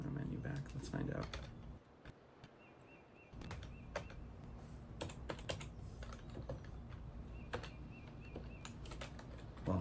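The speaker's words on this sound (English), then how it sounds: "I can zap to some of the other places with the keyboard keys." Computer keyboard keys pressed in irregular bursts of sharp clicks, close and fairly quiet, with short pauses between flurries over a faint background hum.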